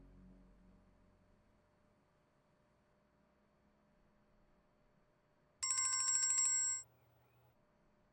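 A mobile phone rings with a bright electronic ringtone in a quiet room, one loud burst lasting about a second before cutting off, with silence before it.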